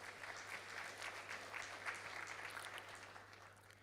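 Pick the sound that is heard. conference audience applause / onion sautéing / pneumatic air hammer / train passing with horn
conference audience applause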